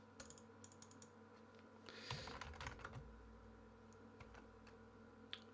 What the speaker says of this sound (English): I keep typing.